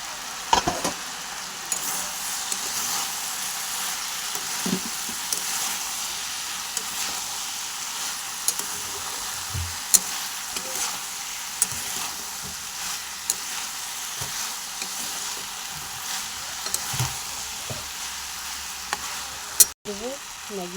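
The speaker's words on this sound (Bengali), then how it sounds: "চলো এবার এইভাবে ঢাকা দিয়ে ভেজে নেবো।" Chowmein with tomatoes fries in a covered pan, giving a steady, dense sizzle with occasional soft clinks and bumps, continuous and moderately loud with no talking.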